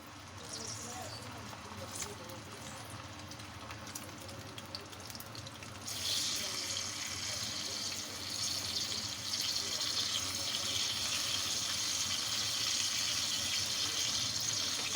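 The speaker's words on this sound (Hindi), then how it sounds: "ये देखिए ऑयल हमारा गर्म हो गया और अब कबाबों को हम फ्राई कर लेते हैं।" Kebabs frying in hot oil over low to medium heat for a BBQ paratha roll, a steady broadband sizzle that swells louder partway through and then holds, with speech at times over it.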